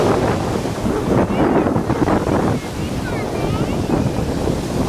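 Ocean surf washes steadily onto Gold Coast beach in Gensan, a continuous broadband roar mixed with wind buffeting the microphone, loud and close throughout.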